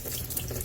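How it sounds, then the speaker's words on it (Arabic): Tap water runs steadily into a sink while canned fava beans are rinsed, a continuous close splashing rush with no break across the short moment. "اتخلص من ماء الفول واسوي له قليل ماء واغسله من 2 إلى 3 مرات"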